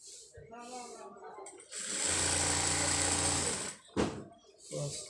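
A sewing machine stitching a maxi dress runs in one fast, steady mechanical whir of about two seconds, close and loud, with someone talking before and after it.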